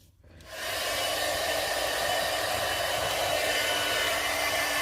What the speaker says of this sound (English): I'm going to turn on my dryer. And I'm going to dry that up a bit.